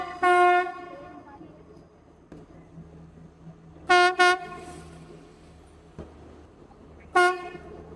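Loud train horn blasts sound three times in Sri Lanka, a long blast, then a double toot, then another, over the low rumble of a passing train.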